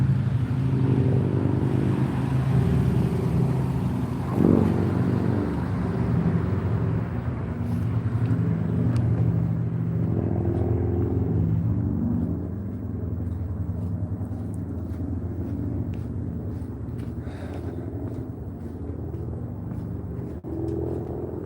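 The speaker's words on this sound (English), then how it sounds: "Doing a little motorcycle drag racing on Grand Avenue." Motorcycles drag racing on Grand Avenue, a street setting: a loud, steady engine roar with revving and a brief surge near the start, fading somewhat in the second half, with no talk.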